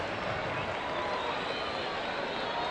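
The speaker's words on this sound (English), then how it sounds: "Crowd starting to get into it here, wanting one more strikeout and have Jake end this inning on another str" A baseball crowd in a stadium cheers and claps, hoping for a strikeout, a steady broad roar of massed voices and applause that holds at an even level throughout.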